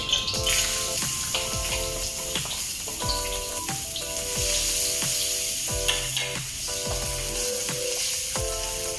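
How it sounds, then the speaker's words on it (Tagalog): Onion and garlic sauté in a pan with bitter gourd and shrimp for ginisang ampalaya, a steady close sizzle broken by repeated clicking, scraping stir strokes throughout. "pwede natin siyang pagsabayin ng sibuyas at saka bawang para hindi siya masunog"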